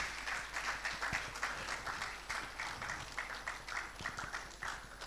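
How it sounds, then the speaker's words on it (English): An audience at an HR leadership event claps steadily and at moderate distance as a speaker walks up to the stage, forming a continuous wash of many hands with slight rhythmic pulsing and no talking. "Round of applause. Let's keep it going even as he mounts the stage."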